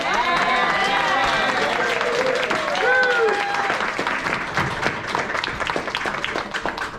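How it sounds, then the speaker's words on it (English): An audience at a readers theater share day gives the student playwrights another round of applause. Dense clapping with cheering voices and whoops rises early, then the clapping continues and gradually thins toward the end. "Let's do one more round of applause for our playwrights."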